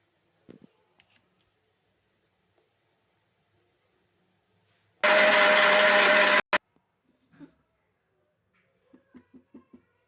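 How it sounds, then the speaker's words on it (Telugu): A kitchen mixer grinder whirs at high speed in a loud burst of about a second and a half, grinding garlic, salt, chili and coconut into a dry chutney powder, followed by a brief second pulse and small clinks in otherwise quiet surroundings. "కొంచెం ఎల్లుల్లిపాయలు, సాల్టు, కారం, ఇవన్నీ వేసుకొని కొంచెం కొంచెంగా పట్టుకోవాలి"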